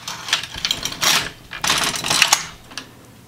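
An LK150 knitting machine carriage pushed across a row of needles, a clattering, rattling mechanical rush in two or three uneven passes, close and fairly loud, no voices.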